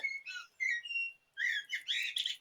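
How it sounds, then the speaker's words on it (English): A blackbird sings from a tree, clear fluting whistled phrases and chirps in two bursts separated by a short pause, fairly quiet and heard alone. "sitting on a tree singing to you. And you just allow yourself to follow the song of the blackbird"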